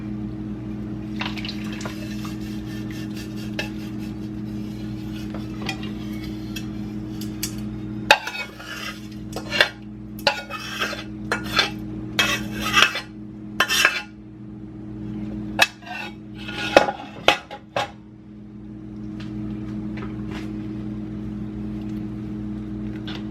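Liquid pours through a cloth strainer bag and splashes into a bowl amid clinks of utensils and dishes, over a steady low background hum.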